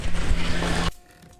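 A saw cuts wood at a 45-degree angle to make corner clamps for a Kreg pocket-hole system, a loud, dense burst of cutting noise lasting just under a second. It stops abruptly, leaving only a faint hum behind.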